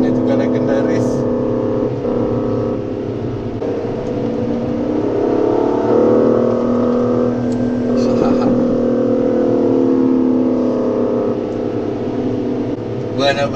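A car lapping a legendary racing circuit, engine droning and whirring steadily from inside the cabin with pitch rising and falling through gear changes, while a person talks over it throughout.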